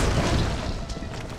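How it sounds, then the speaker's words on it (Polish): A ballista firing in the video game Wo Long: Fallen Dynasty gives one dull, booming launch that fades into a steady rumbling tail, with no talk over it. "Tu możemy z balisty korzystać w taki prosty sposób."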